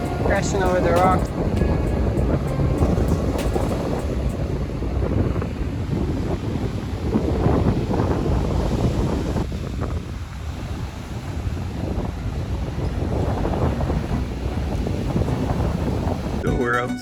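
Strong wind buffets the microphone steadily throughout while sailing on a sailboat in the Bay of Naples, with water sloshing against the hull and occasional indistinct voices underneath.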